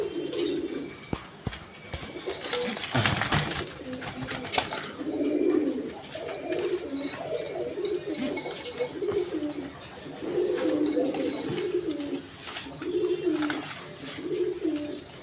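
A pair of Rajgolla pigeons, one male and one female, coo in repeated rolling bursts close by, with brief pauses, a few sharp knocks and a short rustle early on.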